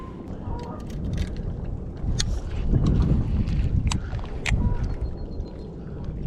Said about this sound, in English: I actually like it when it's a little breezy.